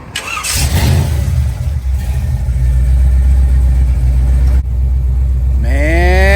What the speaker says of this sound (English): Man, this is a very strong Chevrolet engine build right here